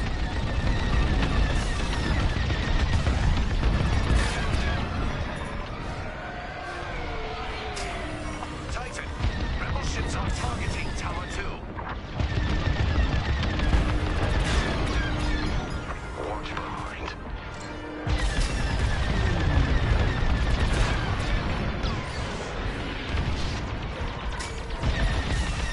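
Starship weapons fire at a Rebel Corvette in a space combat game: dense, continuous bursts of laser and cannon shots with mechanical whirs and crashes, almost unbroken, while a voice talks now and then.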